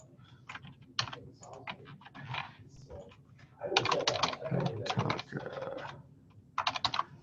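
Rapid typing on a computer keyboard while filling in real estate listing paperwork, a close run of quick clicking keystrokes in irregular bursts with short pauses, fairly loud, a voice faintly in the background.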